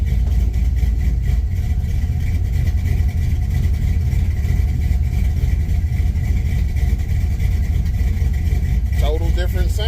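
A truck engine fitted with 706 heads runs steadily in gear, a loud continuous low rumble throughout with a brief rattle near the end.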